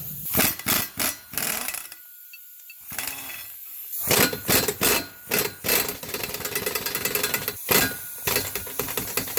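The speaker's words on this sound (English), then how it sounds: "hold them while you twist them out with an impact" An impact wrench removes 18mm and 19mm driveshaft hanger bolts on a Pontiac G8, rattling loud and close in repeated hammering bursts with short pauses between them.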